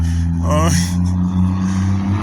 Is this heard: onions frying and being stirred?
no